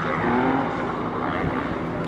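Drift car at a drifting event in Colorado, engine roaring loudly and steadily as it slides, heard up close with crowd noise around it.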